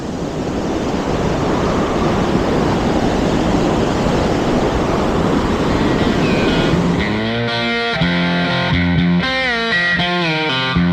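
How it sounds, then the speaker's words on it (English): A river flowing beside a hiking trail near a ski area on the Superior Hiking Trail, a loud steady broadband rush throughout that gives way near the end to a distorted tonal sound. "River's flowing."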